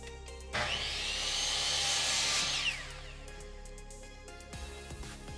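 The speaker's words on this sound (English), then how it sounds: "Use a tape measure, mark your dimensions, and make your cuts." Power saw cutting wood lumber for a donut wall frame, one loud sustained cut of about two seconds that winds down, followed by quieter tool handling and light knocks.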